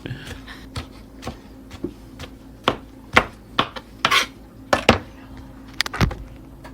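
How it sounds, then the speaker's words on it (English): A knife chops cranberries and apple against a board in irregular sharp taps, close by, with some scraping in between and a low background hum. "I was just kind of like chopping everything together."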